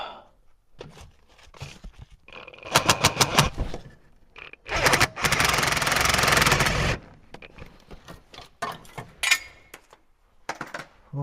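A hammer strikes the speed sensor on an MK6 Jetta GLI in bursts of sharp metallic knocks. A couple of seconds of harsh, continuous clattering noise comes partway through, and sparse taps follow.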